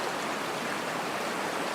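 Stream water rushes steadily in Washington State, a broad continuous hiss with no breaks, close and moderately loud, with no voices.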